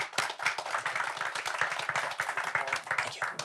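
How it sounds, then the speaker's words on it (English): An audience at a crypto and blockchain policy panel claps for departing senators, a dense, lively burst of many hands nearby, steady and energetic throughout with no voices over it. "We can give them a nice round of applause."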